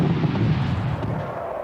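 Fourth of July fireworks at Jones Beach boom in a dense, rumbling cluster of deep bursts that roll into one another and fade over under two seconds.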